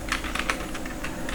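Quick keystrokes on a computer keyboard while a new file is named in a code editor, a close run of irregular clicks with no voices.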